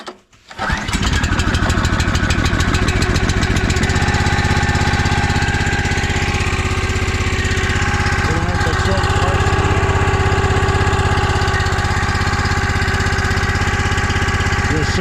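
A Country Line 40-ton log splitter's small engine sputters and catches with rapid firing, then settles into a loud, steady running drone close by that holds to the end, with a voice briefly speaking early on.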